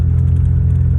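An old truck's engine rumbles while driving, a steady low drone heard from inside the cab, loud and unbroken for a brief moment.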